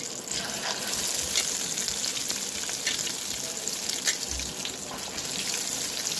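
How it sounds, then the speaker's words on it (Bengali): Egg-dipped bottle gourd and shrimp patties deep fry in oil, giving a dense, bubbling sizzle that stays close and steady throughout, with faint clinks now and then. "লাউ পাতুরিগুলো চুবিয়ে নিয়ে এখন ডুবো তেলে ছেড়ে দেব"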